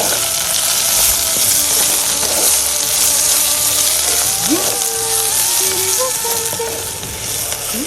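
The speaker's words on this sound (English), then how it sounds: "Let's add the kochi and onions. Stir it well." Garlic, chillies and onions frying in a pan give a loud, steady sizzle with scraping stirs, close and without talk, while a faint tune plays under it.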